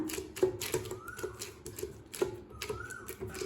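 Rice thattai dough patted flat by hand on oiled butter paper, giving a run of soft, close, irregular taps and light slaps, with no talking.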